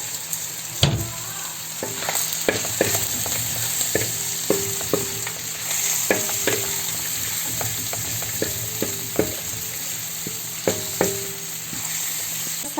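Peppers fry in a hot pan, lightly salted, giving a steady close sizzle broken by scattered clicks and taps of stirring throughout, with no talk.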